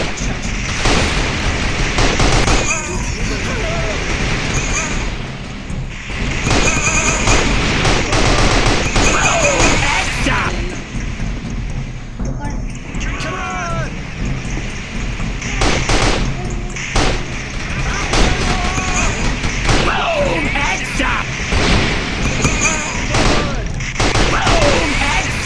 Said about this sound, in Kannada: ಬ್ಲೂ ಗನ್ ಇಟ್ಕೊಂಡು ರಪ್ ರಪ್ ರಪ್ ರಪ್ ರಪ್ ಅಂತ ಕೊಡಬೇಕು